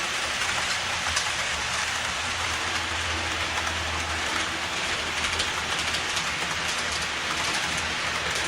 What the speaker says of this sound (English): And here comes the other train again.